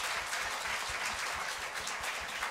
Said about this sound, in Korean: 우리 박수로 축복해주십시오.